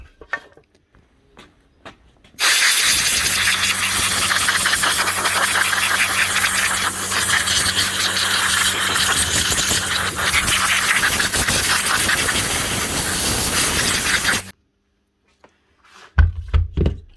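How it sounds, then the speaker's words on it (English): Compressed air from a compressor blasts dust out of a Makita RP0900 router in one loud, continuous hiss lasting about twelve seconds, cut off abruptly, with a few clunks of handling before and after. "blow this out with a compressor"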